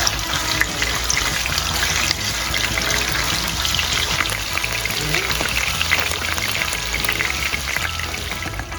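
Pork liver frying in hot oil in a pan while cooking pork menudo gives a dense, steady, close-up sizzle and crackle that runs unbroken throughout.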